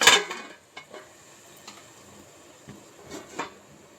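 A metal lid is set down on a cooking pot holding a tomato and ivy gourd curry, a sharp clang at the start followed by a few softer clinks and light taps, close by and without talk.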